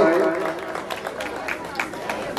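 An audience at a Ram Lila performance gives a burst of applause, scattered claps with crowd murmur that starts loud and tapers slightly over a few seconds.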